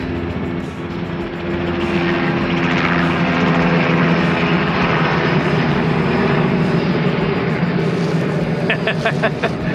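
A helicopter's steady rotor and engine roar fills the air, loud and continuous, with some faint background noise alongside.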